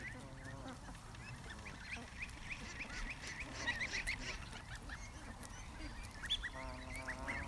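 Geese crowd close around someone's feet, honking and quacking in overlapping calls over a continuous low rustling background, fairly faint.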